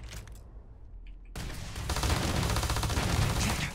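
An explosive-ability weapon firing in Starfield: a quiet stretch, then a sudden sustained barrage of rapid booming shots that grows louder and denser, near and continuous, with no speech.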